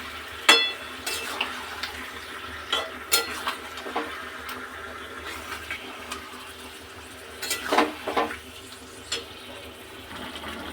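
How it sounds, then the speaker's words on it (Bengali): Meat and masala with half a tomato sautéing in a pan, a low steady sizzle under scattered clinks and scrapes of a spoon stirring, fairly close and quiet, no talking. "এবার মশলাটাকে ভালো মতন কষিয়ে নেব"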